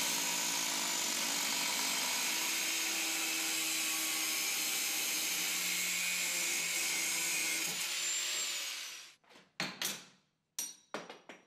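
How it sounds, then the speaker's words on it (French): An angle grinder with a cutting disc slices through metal tubes in a continuous loud, high-pitched whine, then cuts out and gives way to a few short sharp bursts near the end. "Vous travaillerez plus vite avec la meule."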